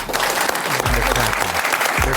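An audience claps loudly and continuously at a New York event marking the medical aid in dying law, a dense crowd applause with low rumbling voices or noise underneath.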